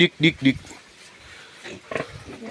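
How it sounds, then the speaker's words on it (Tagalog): Pigs grunt three times in quick succession, then a few softer snorts and grunts follow nearby. "May mga baboy pa dito si tatay oh."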